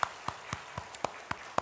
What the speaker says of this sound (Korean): 박수 한 번 더 할까요?